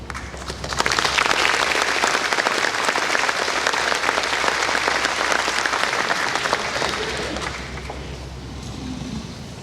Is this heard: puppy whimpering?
no